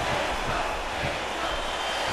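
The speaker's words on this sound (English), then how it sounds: "this crowd here actually now starting to chant for Sean Stevens" A wrestling crowd at Madison Square Garden chants for Sean Stevens during an MPWF Summer Slam 2011 show, a dense, steady roar of many voices filling the arena without pause.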